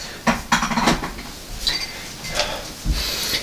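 Sand being stirred in a container of water and bleach, close irregular scraping and sloshing clatters in short bursts.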